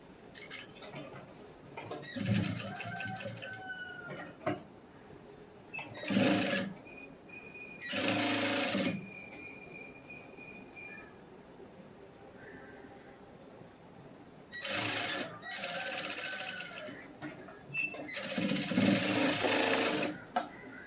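A sewing machine stitches the front part of a cross-cut blouse in several short runs of rapid, rattling whirring, separated by pauses with quiet handling of fabric and occasional faint speech.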